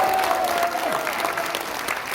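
An audience at a Korean political rally claps loudly and steadily, a dense wash of applause lasting the whole moment with a faint voice underneath.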